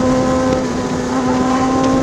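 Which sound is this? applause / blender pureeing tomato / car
car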